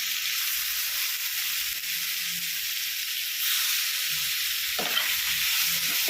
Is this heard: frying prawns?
yes